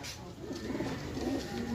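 Pigeons in a loft coo softly and continuously at close range, low murmuring calls over a faint background hiss.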